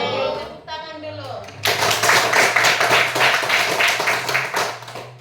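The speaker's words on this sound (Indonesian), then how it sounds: "tepuk tangan dulu" A school class claps hands together in a burst of dense, rapid applause right after a teacher speaks, the clapping loud and close, filling the room for several seconds.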